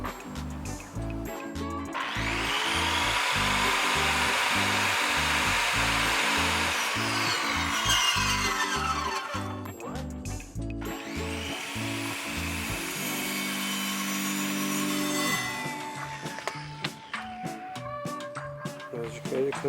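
Handsaw or power saw cutting through wood for a bathroom corner stand, two long loud sawing bursts with a brief pause between, followed by quieter handling and faint talk.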